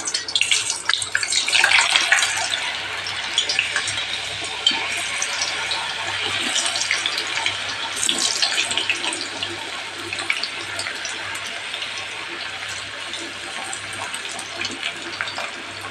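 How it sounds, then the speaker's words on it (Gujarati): Potato chips frying in hot oil for a Gujarati dry potato dish, a steady broadband sizzle and bubbling that stays loud and continuous throughout, with no voices. "આપણું સરસ તેલ ગરમ થઈ ગયું છે તો આપણે ચિપ્સને બધી ઉમેરી દઈશું આમાં"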